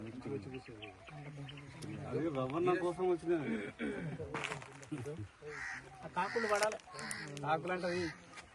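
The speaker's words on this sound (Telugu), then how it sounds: "కాకులు కూడా తీయాలా" Crows caw outdoors in a natural rural setting, their calls mixed in with steady nearby human talking that dominates much of the sound.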